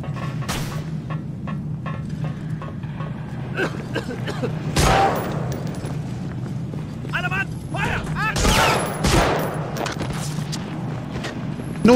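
Thompson submachine gun in Medal of Honor Frontline, a dense crackle of gunfire with a couple of heavier blasts and a steady low hum of game ambience underneath.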